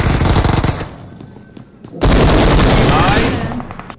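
Rapid automatic gunfire from a video game, loud bursts at the start and again after a brief lull, with a voice talking over the shooting.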